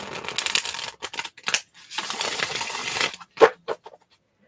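Tarot cards being shuffled close up in a quiet room, a series of quick papery riffles and soft slaps in irregular bursts with short silent gaps between them.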